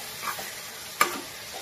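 A ridge gourd curry with dried shrimp sizzles softly in a pan as chilli powder is stirred in, with one sharp scrape of the spoon midway.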